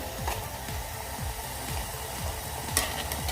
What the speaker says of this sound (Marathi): आपण आता हे दोन तीन मिनटं असंच परतून घेऊयात